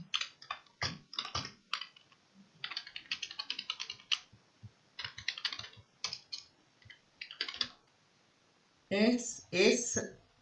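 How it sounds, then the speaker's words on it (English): Typing on a computer keyboard, heard as quick clusters of close, crisp key clicks separated by short pauses. A voice speaks near the end. "let me type the new sentence"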